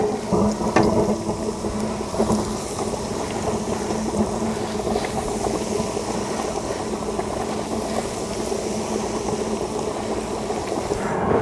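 Catfish fillets drop into hot frying oil for Cajun fried catfish, giving a steady, bubbling sizzle with occasional crackles and pops that carries on evenly throughout.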